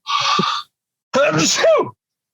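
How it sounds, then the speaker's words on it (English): A person sneezes in two parts, a short breathy intake followed by a loud, close, drawn-out burst, with no other sound around it. "Before I answer that question, I had to sneeze."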